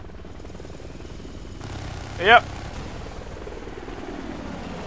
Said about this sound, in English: The friendly helicopter will be shot down by the enemy one,